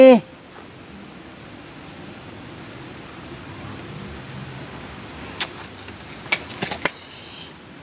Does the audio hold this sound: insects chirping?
yes